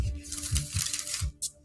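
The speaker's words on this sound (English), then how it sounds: "all right, one more shuffle because these have" A deck of tarot cards being shuffled by hand, quiet close riffling and papery rustling with a few soft bursts, no talking.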